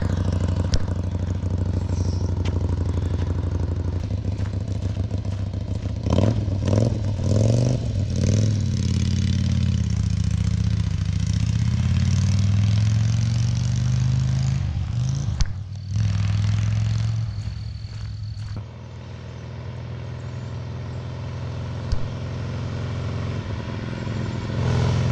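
A 1973 Harley-Davidson Ironhead motorcycle on a spring ride sounds throughout, with a steady low engine drone that rises and falls as it revs and accelerates. Wind and road noise build around it, and no one speaks.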